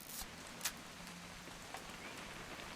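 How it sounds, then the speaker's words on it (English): Soft steady rainfall in the video game What Remains of Edith Finch, a faint continuous patter with a few isolated drop taps, heard alone without voices. "It's gonna rain the whole weekend, isn't it?"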